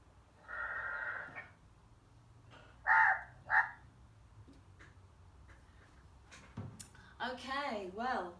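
Several harsh caws sound at a moderate distance, two loud ones standing out, mixed with other brief bird calls over a low background hum.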